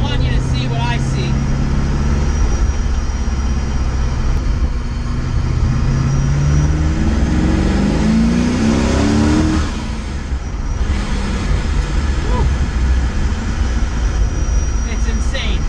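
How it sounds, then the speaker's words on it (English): A 750-plus horsepower old muscle car engine revs loudly while driving, its low exhaust roar rising and falling with a climbing pitch sweep midway, steady and close throughout. "This car makes all sorts of crazy noises, none of which you would ever expect from any sort of car."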